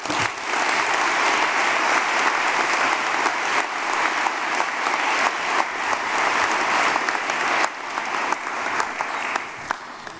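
An audience at an awards investiture ceremony breaks into sustained, loud applause, a steady wash of clapping from a large crowd that holds throughout with no talk over it.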